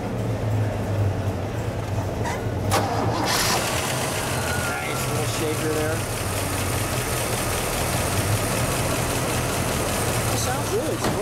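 A 1974 Pontiac GTO V8 rated at 200 horsepower settles into a steady, rumbling idle close by, its low exhaust note continuous throughout while people talk briefly over it.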